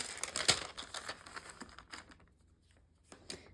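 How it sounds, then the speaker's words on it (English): Parchment paper crinkles and rustles close by in a quiet craft session, a flurry of crisp crackles that thins out, pauses briefly, then returns with a few last crinkles. "Let me grab parchment paper."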